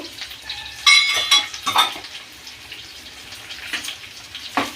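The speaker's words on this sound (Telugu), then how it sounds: "ఇవి కొంచెం ఫ్రై అవ్వాలా ధనియాలు కూడా" Coriander, cumin and fenugreek seeds fry in a hot pan with green chillies for a mango and peanut chutney, giving a steady close sizzle with sharp crackles and a few scraping stirs. No one speaks.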